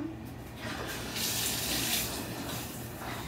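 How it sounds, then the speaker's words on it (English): A shower being turned on at home, with water rushing steadily from the tap and swelling louder partway through, continuing alone without any talk. "But I'm going to turn the shower on."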